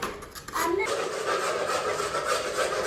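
Harsh, continuous scraping and rasping as ice is scraped out of a freezer, close and steady after a brief quieter start.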